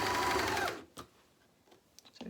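A Juki MCS-1500N coverstitch machine sews a circular hem, giving a dense mechanical whir that runs briefly and then stops, followed by a few soft clicks and fabric handling sounds.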